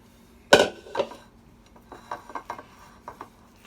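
A utensil scrapes and knocks batter from a bowl into a greased bread pan, one sharp loud clack then a string of softer taps and scrapes, close up and without voices.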